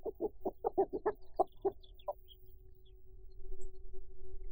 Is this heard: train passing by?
no